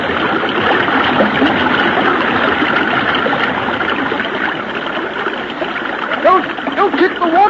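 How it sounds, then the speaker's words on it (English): Feet kick hard in river water, making continuous close splashing and churning over a rushing current, with a few brief sharper splashes near the end. "Don't kick the water so hard."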